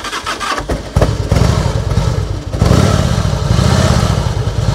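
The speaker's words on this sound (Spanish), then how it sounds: "voy a arrancar la moto para ver directamente saldría el sonido de ella" A customized 2000 Harley-Davidson Fat Boy FS2 motorcycle starts up with a rough cranking burst, then settles into a loud, close, steady lumpy idle that swells slightly midway.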